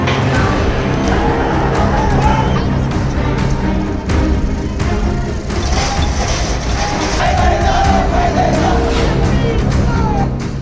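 A dense, loud crowd of Gen Z protesters filling the streets of Nepal, a constant roar of many voices with shouts and occasional bangs rising above it.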